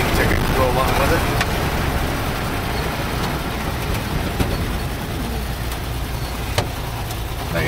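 A 1947 Dodge W Series truck driving along, its engine and road noise forming a loud, steady rumbling roar that stays constant throughout from inside the cab.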